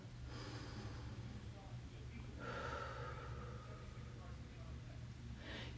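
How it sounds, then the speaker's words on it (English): One deep breath drawn and let out, heard as a soft, close rush of air that swells in the middle over a steady low hum, with no talk during it. "And you take another deep breath."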